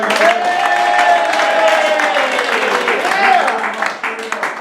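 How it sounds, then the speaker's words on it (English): A round of audience applause at a Friday night live show, dense clapping mixed with voices and cheering, steady for most of the stretch before thinning out near the end. "Round of applause."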